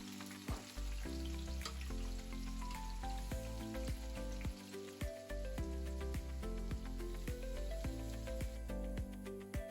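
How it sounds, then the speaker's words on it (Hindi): Pieces of jackfruit fry in hot mustard oil for a spicy home-style curry, giving a steady close sizzle throughout with loud melodic music playing over it. "अब यहाँ पर धीरे धीरे हम कटहल को डाल देंगे। तो थोड़े से हम कटहल को फ्राई करेंगे।"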